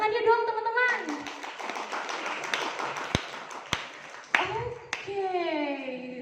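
A room of people claps for an arriving freelance photojournalist guest at a morning talk event in Bumiaji, Batu, the clapping loose and mixed with children's voices and chatter, bracketed by louder speech and a few sharp taps.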